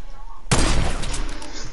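A sniper rifle fires a single sudden, loud shot in a video game, followed by a rumbling tail that slowly fades.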